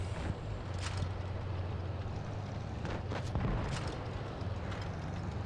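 Tank cannon firing a high-explosive shell in the World of Tanks Blitz mobile game: a dense, roaring rumble of gunfire and engine noise, steady and fairly loud throughout, with a couple of brighter bursts midway and no talk.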